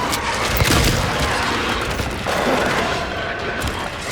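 Rifle fire in Silent Hill 2, loud close shots ringing out in a dense, echoing volley with booming tails that carries on for several seconds, no speech over it.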